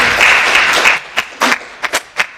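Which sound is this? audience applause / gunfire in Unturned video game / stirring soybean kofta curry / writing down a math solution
audience applause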